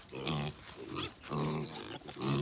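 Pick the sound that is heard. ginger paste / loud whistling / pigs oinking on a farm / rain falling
pigs oinking on a farm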